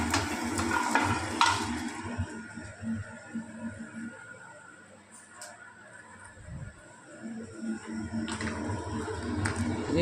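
Ginger and garlic frying in a pan, a steady low sizzle with scraping stirs and utensil clinks, dipping quieter midway then picking back up, close and soft with no talk.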